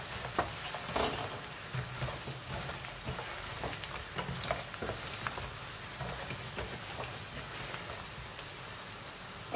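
Fried turkey with honey butter is stirred in a pan, producing a continuous close sizzle broken by irregular scraping and clicking from the spoon.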